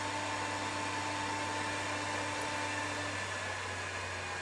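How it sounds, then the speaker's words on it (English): The cooling fan of a 1000W 80V 50A electronic load whirs steadily at close range, a constant broadband rush with a low hum running underneath, and nobody talks over it. "the fan speeds up as it needs to get that heat out of there"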